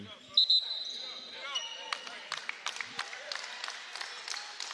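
Crowd at an Army versus USMC armed forces men's basketball game applauding a player's exit, a scattered clapping patter alongside sharp ball bounces and sneaker squeaks, with a commentator talking over it.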